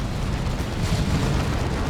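Lascannon Predator tank fire from Dawn of War 2 rumbles as a heavy, continuous low boom, loud and dense for the whole short stretch.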